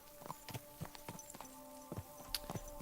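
Horse hooves clip-clop at a slow walk in the medieval game Kingdom Come: Deliverance II, the horse moving alone beside a caravan standing in place; several distinct, moderately close hoof knocks over a faint steady drone.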